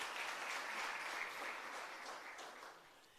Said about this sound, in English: Can you give her a round of applause?